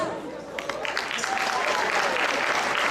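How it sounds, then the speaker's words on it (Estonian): A big round of applause at a ball, dense clapping that builds and holds steady, with a few separate claps near the start and voices mixed in beneath. "Tehke Maarjale suur aplaus"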